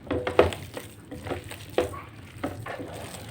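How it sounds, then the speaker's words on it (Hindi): Chapli kebab mixture with tomatoes is worked by hand in a bowl, giving soft, wet squelching and irregular clicking knocks against the bowl at close range, with no talking. "इसमें हमने अच्छी तरीके से मिक्स करना है।"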